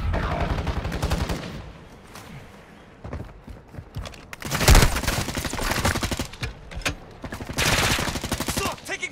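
Gunfire in Warzone 2, with bursts of automatic shots and single cracks coming in uneven clusters, loud and close, mixed with game noise and occasional voices.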